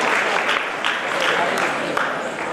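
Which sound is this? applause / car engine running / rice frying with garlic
applause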